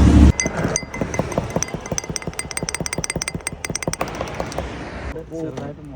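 Glass soda bottles are opened and clinked while sherbet is mixed at a roadside stall, giving a rapid, steady run of sharp clinks and knocks with voices nearby.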